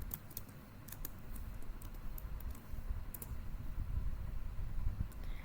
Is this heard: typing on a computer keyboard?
yes